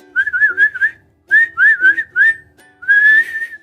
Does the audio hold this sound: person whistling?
yes